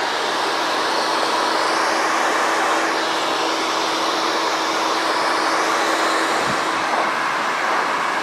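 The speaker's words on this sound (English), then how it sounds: "So that's how I'm gonna be blow drying it as well." A blow dryer roars steadily at close range while hair is dried in a barbershop, a loud continuous whoosh of air with a faint steady hum running through it and no talk.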